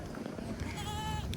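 A goat at a bird park bleats once, a wavering nasal cry at moderate distance, while a person talks softly nearby.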